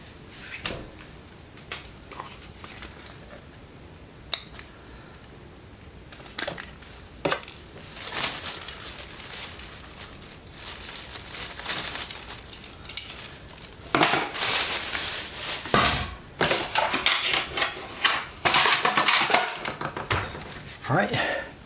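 Staples being pried out of a Miata e-brake boot, scattered sharp metallic clicks and scrapes that grow denser and louder toward the end, close by, with someone talking at times.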